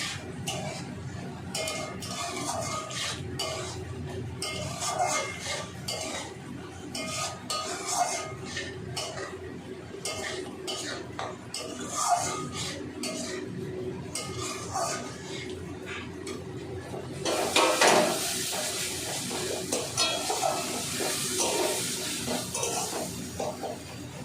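Spice masala stir-fried in a pan for fish curry, a continuous sizzle with rhythmic spatula scraping and stirring strokes against the pan, growing louder and brighter near the end, with no one talking.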